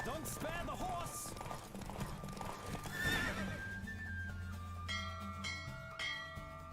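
A horse whinnies loudly over clattering hooves in The Witcher 3, then bells ring out as music continues and a voice talks.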